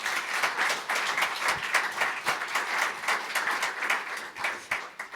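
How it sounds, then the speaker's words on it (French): An audience at a conference in Combloux applauds the speaker, a steady round of many hands clapping at moderate volume that carries through to the end. "Je pense qu'on peut applaudir notre intervenant."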